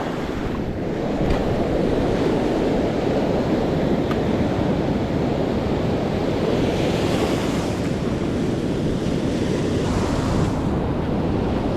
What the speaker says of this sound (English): Surf looks really good.